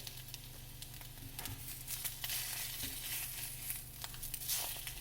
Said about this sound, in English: I'm making a mess of this egg.